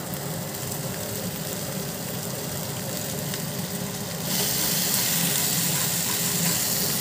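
Chopped capsicum and slit green chillies frying in a hot pan for chicken pasta, a steady close sizzle and hiss that grows louder and brighter partway through as they hit the oil.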